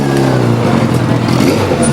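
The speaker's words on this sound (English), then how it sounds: "Hundreds of complaints about motorcycle noise and congestion led to tonight's meeting." A loud motorcycle engine revving close by, a rough throaty roar rising and falling over two seconds.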